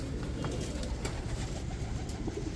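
Grizzle racer pigeons coo softly in a loft, with low murmuring calls and faint rustling nearby over a brief moment.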